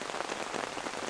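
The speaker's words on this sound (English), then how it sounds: "lots of caterpillar frass bouncing off my tent." Caterpillar frass patters densely onto a tent in a pine forest in August, like a soft steady drizzle of tiny ticks, continuous and close with no voices.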